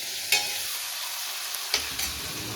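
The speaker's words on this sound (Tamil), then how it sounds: "வெங்காயம் போட்டாச்சு அதுக்கப்புறம் தக்காளியும் போட்டேன் இது ரெண்டும் முதல்ல வதங்கட்டும்" Onions, tomatoes, cashews and curry leaves sautéing in a pan for a Tamil-style potato gravy, a steady close sizzle with a few sharp clinks of a stirring spoon against the pan.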